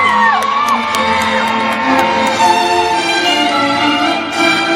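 Melbourne crowd at a Toyota Hilux precision driving team arena show whooping, cheering and shouting, a loud sustained roar of many voices with scattered high whoops throughout.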